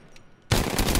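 A sudden burst of rapid automatic gunfire in a shooter video game, erupting loud and close after near silence and continuing as a dense stream of shots.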